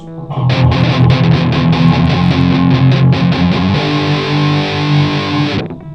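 Distorted electric guitar chugging through repeated palm-muted chord strokes, then a chord left to ring out, loud and close with no voices.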